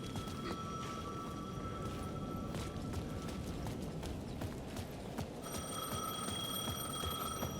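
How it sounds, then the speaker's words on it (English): A payphone rings at the edge of a plaza in Alan Wake 2, its bright repeating trill heard near the start and again later over quiet background footsteps and ambience. "The payphone at the edge of the plaza was ringing again."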